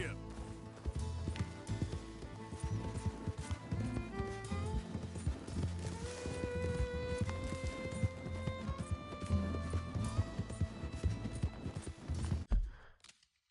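Horse hooves clip-clop at a steady trot in Red Dead Redemption 2, mixed with game music and ambient sound, then stop abruptly at the end.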